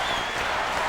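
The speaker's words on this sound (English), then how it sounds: "Now the crowd into it." Hockey arena crowd at an NHL game between the Los Angeles Kings and Pittsburgh Penguins, a steady, dense roar of cheering that fills the whole moment without pause.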